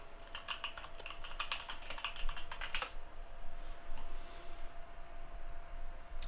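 Keystrokes clatter on a computer keyboard for a few seconds during a TERA Online gaming stream, a quick run of clicks close to the mic that thins out and stops, leaving a steady low hiss.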